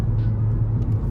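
A Ford Fiesta ST performance edition with Mountune 260 upgrades being driven hard on twisty roads gives a steady, close, low engine rumble throughout a brief moment.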